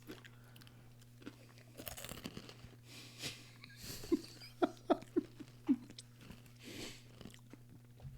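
Crunchy snacks being chewed close to a microphone give a short run of sharp, crisp crunches amid quieter mouth sounds and rustling over a steady electrical hum.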